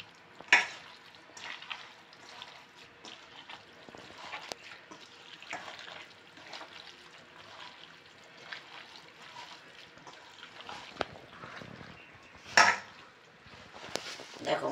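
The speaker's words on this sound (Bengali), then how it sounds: "এইবার মাছটাকে মাখবো।" Boal catfish pieces worked by hand into a spice paste in a kitchen bowl: soft squelching and wet stirring, with a few sharp clinks of utensils against the dish and quiet stretches between.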